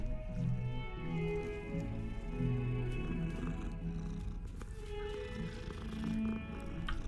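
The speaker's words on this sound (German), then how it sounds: "Katze." A cat in the video game Hogwarts Legacy purrs and makes soft little vocal sounds over a low, steady background of game music, close and fairly quiet throughout.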